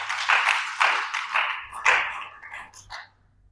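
A church congregation breaks into applause in rolling waves of dense clapping that swell a few times, then thin out and fade to a few scattered claps.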